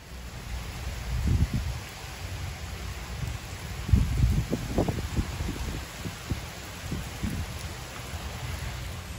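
Pouring rain near a bridge during a thunderstorm in West Palm Beach, a steady wash of noise with irregular low rumbling bursts rising and fading throughout.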